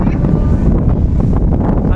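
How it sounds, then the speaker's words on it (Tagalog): Cool wind buffets a microphone outdoors in the Bicol countryside, a steady low rumbling rush with a short remark spoken under it. "Ang sarap ng hangin dito guys."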